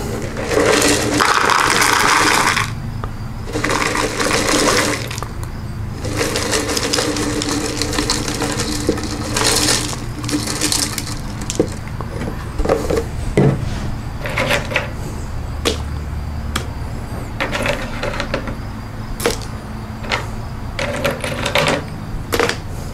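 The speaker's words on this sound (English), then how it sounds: "I'm gonna put about 2 ounces of wood, toasted oak in that" Pieces of toasted oak wood are dropped into a container sitting on a scale, making a series of sharp clattering knocks and rattles. The sounds come in irregular bursts close to the microphone and are heard alone.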